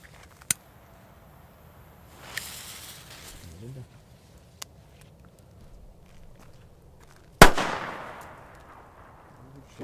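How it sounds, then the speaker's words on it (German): A Pyromax China Böller D firecracker goes off near the end in one sharp, loud bang with a trailing echo, after a quiet stretch broken only by a few small clicks and scuffing steps. "Dann jetzt haben wir hier mal ein Pyromax China Böller D"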